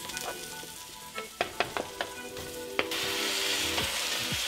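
Chicken pieces dropped into a hot pan with garlic and tomato paste for coq au vin, their juices sizzling; a few sharp clatters and pops give way to a steady, close frying hiss with no talk.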